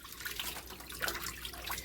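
Tap water runs steadily and softly while chitterlings are washed and rinsed in a sink. Faint splashes and trickles sound over a continuous low hiss, with no talking.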